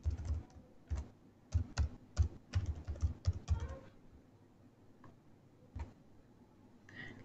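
Someone types an email address on a computer keyboard: a quick run of close, crisp key clicks, then a pause with a few scattered taps and one more keystroke near the end.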